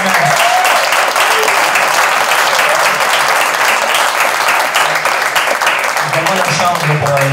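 Loud, sustained audience applause at a LinkedIn Influencers event, a thick, unbroken roar of clapping with crowd voices and cheers mixed in.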